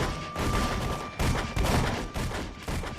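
Gunfire in a video game, loud overlapping shots and rumbling blasts in quick succession, dense and close for a few seconds.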